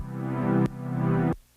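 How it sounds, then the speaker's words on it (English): Pulsing synthwave synth pad with sidechain compression, a sustained chord swelling in volume then abruptly ducking twice in a steady rhythm before cutting off, loud and alone with no talking. "you probably are gonna wanna have at least one element doing a very pulsing kind of synth sound"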